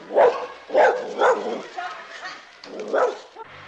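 A dog barks on the streets of Santa Clara, El Salvador, a few medium-close barks in an irregular rhythm, mixed with some voice-like sounds.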